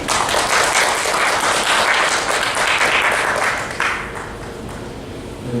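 Applause from a church congregation welcoming four visiting guests during a Sunday service, dense steady clapping that fills the room, easing slightly in the last couple of seconds.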